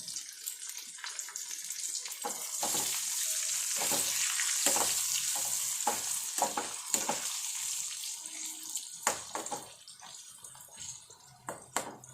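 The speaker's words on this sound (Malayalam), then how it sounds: "കോവയ്ക്ക ഏകദേശം ആയിക്കൊണ്ടിരിക്കുന്നു നല്ലപോലെ മൊരിഞ്ഞ് വരണം" Steady crackling sizzle of ivy gourd frying in a hot pan, with occasional scraping and stirring clinks, close and continuous with no talk.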